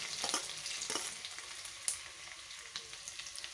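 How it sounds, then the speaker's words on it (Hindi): Soft crackling sizzle of chopped garlic frying in hot oil with cumin, mustard seeds and curry leaves, with a few sharp pops and a spoon scraping now and then, fairly quiet and steady. "कड़ी पत्ता डालने के बाद लहसुन कटा हुआ डालते हैं।"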